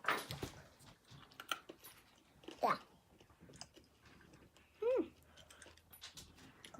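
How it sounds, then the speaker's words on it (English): Crunchy bites and chewing of a foreign snack broken apart with a hammer, faint and close, with intermittent crunches and short voices. "I can hear her crunching."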